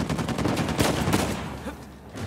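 Rapid pistol gunfire in the video game Uncharted 4, a dense burst of sharp, loud reports that thins out and fades near the end.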